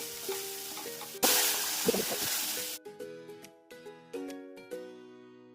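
Masala sautéing in oil over a slow flame for kadai mushroom, a steady close sizzle with intermittent stirring scrapes, a louder burst midway, then quieter and sparser.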